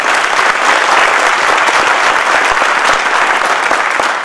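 A packed kavi sammelan audience bursts into loud, sustained applause, dense clapping filling the hall steadily for several seconds without letup.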